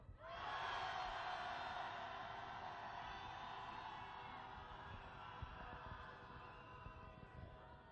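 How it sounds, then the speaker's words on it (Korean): A crowd of candlelight-march protesters cheers and shouts together in one sustained roar that surges loudly at the start and then slowly fades over about eight seconds, with no single voice standing out. "함께 함성 한번 질러볼까요? 함성 시작!"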